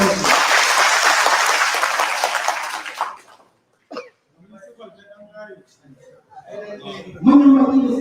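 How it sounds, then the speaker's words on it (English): An audience at a Sowore event in Kano bursts into loud applause for about three seconds, then it stops abruptly, leaving a quiet room with faint murmuring and a brief voice. "Please, another round of applause for us."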